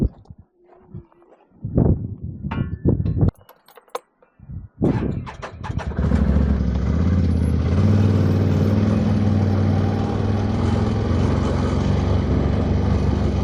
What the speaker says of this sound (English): I'm going to take my side-by-side. I actually haven't driven this thing in a while.